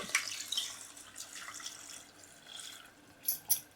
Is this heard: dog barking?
no